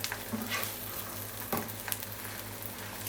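An omelet of eggs with a generous filling cooks in a pan over lowered heat, giving a steady close sizzle with a few light scraping knocks from a utensil.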